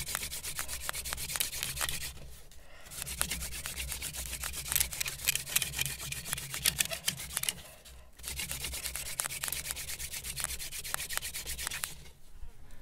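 A wooden bow drill spindle spins against a fireboard in a desert, giving a rhythmic scraping rub in long back-and-forth strokes with brief pauses, close and fairly quiet, with no talk.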